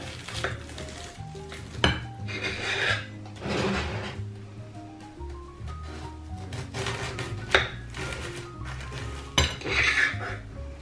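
Utensils cut through a seasonal vegetable quiche on a pale pink plate, giving soft scraping and several sharp clinks of metal on china, close and fairly quiet.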